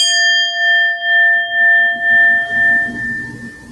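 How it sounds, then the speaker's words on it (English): A singing bowl struck once rings out with a clear, sustained metallic tone that slowly decays, its shimmering overtones pulsing gently as they fade while softer rustling comes in near the end. "I am going to ring the singing bowl."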